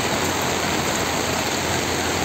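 Heavy typhoon rain pours in a dense, constant roaring hiss that stays loud and unbroken throughout, with no voices over it.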